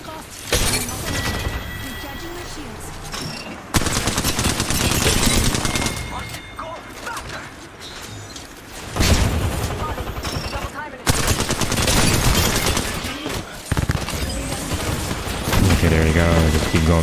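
Rapid automatic gunfire from Apex Legends comes in loud, dense bursts separated by brief gaps, with sharp shattering impacts in between.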